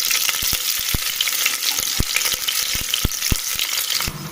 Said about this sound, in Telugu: ముందుగా స్టవ్ పైన కుక్కర్ పెట్టేసుకొని అందులో ఆయిల్ వేడాక సాజీరా, బిర్యానీ ఆకు, ఉల్లిపాయ,